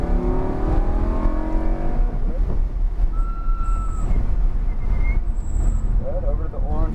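A race car accelerates on a track at a Xtreme Xperience race day, its engine droning loud and steady throughout, with an instructor's voice coaching over the engine noise.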